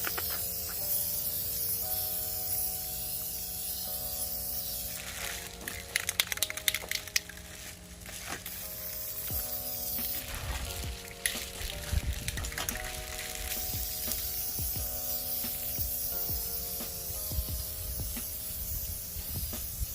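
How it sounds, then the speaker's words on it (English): Aerosol lacquer clear coat hisses onto a car wheel rim in repeated bursts of spraying, close and steady, with a low tonal hum running underneath throughout. "we're gonna spray paint it, coat it a little more. We're gonna hit it with the lacquer."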